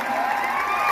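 A large audience applauds and cheers together at an indoor recognition event after a dance, a dense steady wash of clapping with no breaks.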